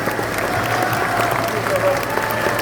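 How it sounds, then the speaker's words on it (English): A crowd at Comicon Manchester applauds GTA V actors Shawn Fonteno, Ned Luke and Stephen Ogg: dense, steady clapping and cheering, loud and continuous, with some voices mixed in. "please give a round of applause for Shawn,"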